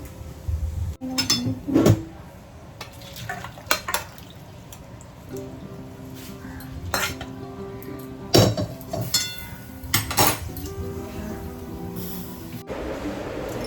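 Curry is ladled out of a pot, with scattered clinks of spoon against metal, wet drips and scraping, irregular and close, separated by quiet pauses.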